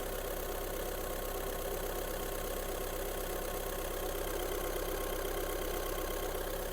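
A 2012 Skoda Superb's 1.6 TDI diesel engine idles steadily and close by, a constant, even rumble with a faint knocking texture and no changes in pace.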